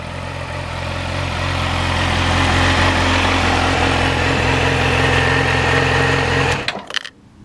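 A 2012 Yamaha YZF R6 sports motorcycle idles with a steady, close, even hum for about six and a half seconds before cutting out abruptly, followed by a few faint clunks.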